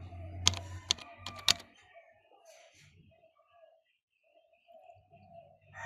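Several quick keystrokes on a computer keyboard clatter close by in a short burst, then stop, leaving a quiet room with faint background sounds.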